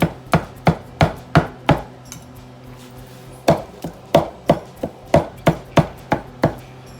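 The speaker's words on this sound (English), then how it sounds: "so I got it all chopped up" A knife chops carne asada for street tacos on a cutting board, sharp close thuds in quick bursts of four or five, separated by a short pause, with no talking.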